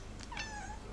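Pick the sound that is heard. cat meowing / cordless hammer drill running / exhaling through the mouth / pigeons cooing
cat meowing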